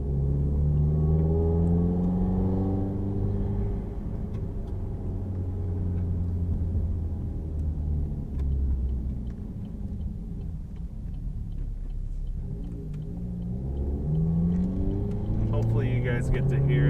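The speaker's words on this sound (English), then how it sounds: "Hopefully you guys get to hear the cold air intake as well." A 2014 Chevy Cruze Eco with a Stage 2 tune and cold air intake drones steadily from inside the cabin during a ride, with engine pitch sweeping down and then rising again as it accelerates. Light ticking sounds under it.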